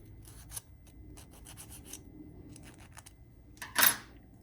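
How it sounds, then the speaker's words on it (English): A hand file rasps against the tab of a 3D printer part in short, scratchy strokes, a quick cluster of rubs followed by one louder, longer stroke near the end, close up with no talk. "I was down over here filing"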